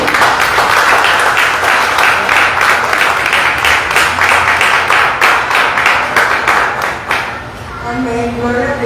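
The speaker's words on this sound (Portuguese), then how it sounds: "Eu gostaria que a igreja a recebesse com uma salva de palmas pela vida dela" A church congregation claps together in a sustained, dense burst of applause that fills the room, then thins and fades near the end as a voice begins speaking over it.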